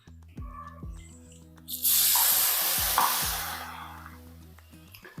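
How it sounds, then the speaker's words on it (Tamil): Hot mustard oil poured onto lemon pickle crackles into a loud, broad sizzle that surges up mid-pour, holds for a couple of seconds and slowly fades, with quieter background hum and a few thuds before it. "இந்த கடுகு எண்ணெய் நம்ம சுட வச்சு வச்சுருக்கோம் இல்லையா இதை இதில் ஊற்றிடலாம்"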